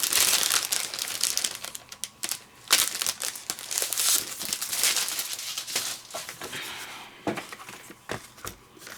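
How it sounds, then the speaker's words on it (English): A 5x7 sheet of crafting paper is being handled and shuffled at a crafting table, giving close, irregular crinkles, rustles and sharp papery snaps that repeat across several seconds without speech. "Let me grab that 5x7 piece of paper from the kit."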